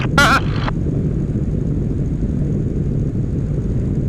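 A Pietenpol light airplane's engine holding 1,500 RPM in flight, a loud, steady low drone mixed with wind rush that continues throughout, with a brief tonal blip near the start.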